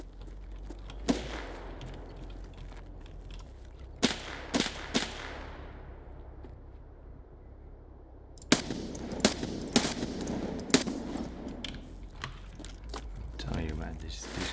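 Gunfire in Escape from Tarkov: sharp, loud single shots and short rapid bursts, with a quiet lull in the middle, then a cluster of closely spaced cracks over low background rumble.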